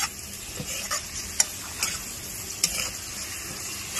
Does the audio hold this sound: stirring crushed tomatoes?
yes